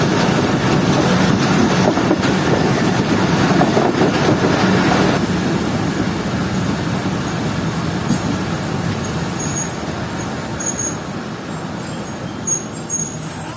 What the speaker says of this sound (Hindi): टंडो आदम जंक्शन रेलवे स्टेशन पर हजारा एक्सप्रेस अपना 2 मिनट का स्टॉप करने के बाद निकल रही है